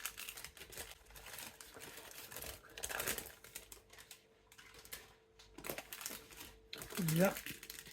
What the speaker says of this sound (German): das Papier wieder sacht abgezogen